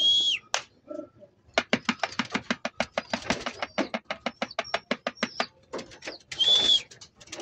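Racing pigeons at a loft, with a rapid burst of wing-flapping claps as birds take off, plus a few brief calls near the start and end.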